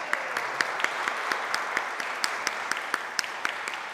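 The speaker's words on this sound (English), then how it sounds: "Would you stand and take some applause?" A concert audience applauds the composer, a steady wash of clapping from many hands that holds at an even level throughout, with no talk over it.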